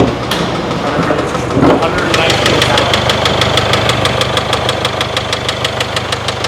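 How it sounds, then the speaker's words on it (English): An idling engine with a loose timing chain tensioner gives off a fast, steady metallic ticking rattle over a low rumble, loud and close in a repair shop, with people talking over it. "a timing chain tensor just flapping around in there"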